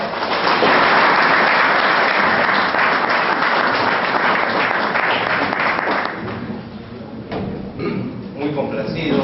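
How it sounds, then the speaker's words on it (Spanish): Audience applause welcoming a speaker at an education talk in Tacna, Peru: dense, loud clapping from a crowd that holds steady for about six seconds, then thins out into scattered claps under room noise. "con fuertes palmas vamos a recibir al doctor Gustavo Peralta."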